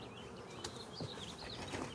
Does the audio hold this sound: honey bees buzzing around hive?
yes